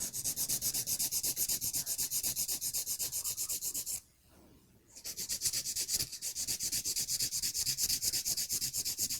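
Acrylic sculptured nails are filed straight across in quick, steady rasping strokes, close and continuous, with a brief pause around the middle before the rubbing resumes.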